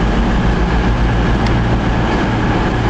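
A Virgin Trains Pendolino at a platform in Birmingham Moor Street station gives off a loud, steady rumble with a low drone and faint rail clatter, with no voices.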